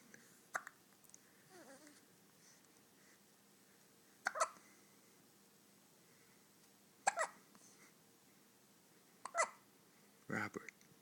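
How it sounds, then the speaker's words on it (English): A small child hiccups four or five times at spaced intervals, each one a sharp, brief catch, in an otherwise quiet room. "do you have the hiccups?"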